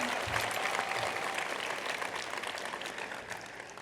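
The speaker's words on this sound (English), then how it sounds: "I just want to give you guys a round of applause real quick for that" Graduates and families at the Irvine Valley College Class of 2022 commencement break into a round of applause, broad steady clapping that carries evenly before tapering slightly, with no talk.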